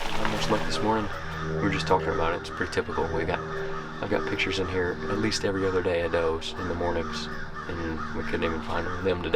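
Crows caw repeatedly in the background of a morning deer-hunting outing, someone talking steadily over the calls.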